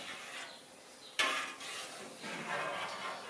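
A cutting tool sliding through cheese curd in a copper pot, soft watery swishes and one sharp metallic tap against the pot, close and quiet without talk.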